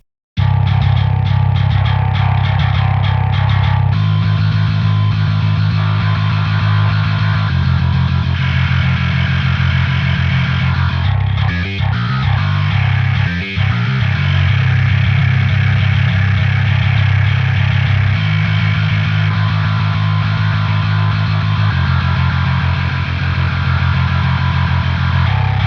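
Electric guitar run through Axe-Fx III drive and fuzz effects, thick saturated chords ringing loud and sustained, changing tone in several sections with a brief choppy stutter in the middle, no talking.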